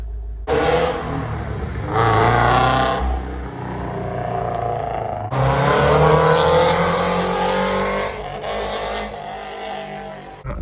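A Toyota GT86 sports car engine revs hard and loud, with sustained roaring bursts that rise and fall over about ten seconds, heard close up as the car accelerates.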